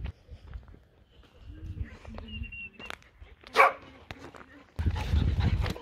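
Dogs being walked by a group on an outing in Morocco, with short barks and yips scattered across the clip and a louder burst near the end, while people talk in the background.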